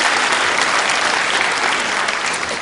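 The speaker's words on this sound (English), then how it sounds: "Round of applause for yourselves." A comedy-show audience gives itself a loud, continuous round of applause, dense clapping from many hands that holds steady throughout with no talking over it.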